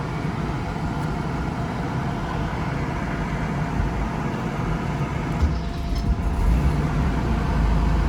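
A 1987 Porsche 911 Turbo sits idling, a steady, even low engine rumble that holds without change, close and moderately loud, with no talk over it.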